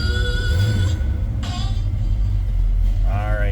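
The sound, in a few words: 1974 Pontiac Trans Am 455 engine running after cold start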